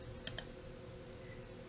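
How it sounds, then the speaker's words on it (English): A single F8 key press on a computer keyboard gives two quick, faint clicks close together, set against a steady low background hum. "you can press F8 from the keyboard"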